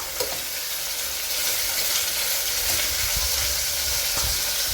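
Onions fry in a pan with a loud, continuous sizzle while being stirred, with occasional soft scraping thuds under the hiss.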